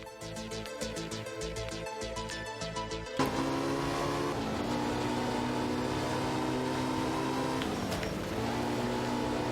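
A Porsche rear-wheel drive car in a video game, its engine droning steadily with shifting pitch, a sharp change near the start and a dip later as it revs through gears, with no talk.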